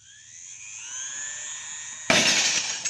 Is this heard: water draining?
no